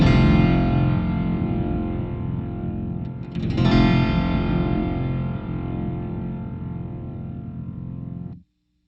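A guitar chord played through a Boss OC-5 octave pedal in vintage mode rings out with a thick, distorted, wavering tone. It sustains for several seconds, swells midway, then cuts off abruptly.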